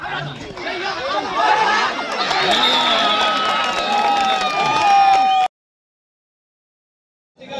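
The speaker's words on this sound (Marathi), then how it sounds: "शिट्ट्यांचा टाळ्यांचा आवाज येतोय" A noisy crowd at a kabaddi match chatters and shouts with clapping and shrill whistles rising over the din, sustained for several seconds before cutting off abruptly.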